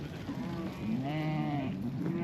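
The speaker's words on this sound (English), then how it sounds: "we've got the last pen of sheep here now" Sheep bleat from a pen on a Western Australian sheep farm, wavering calls overlapping one another at moderate distance over steady background noise.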